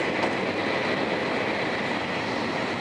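A train travelling on rails through foggy country on a journey from Osaka to Tokyo, heard as a steady, loud rumble and hiss of the carriage from inside, continuous throughout with no talking.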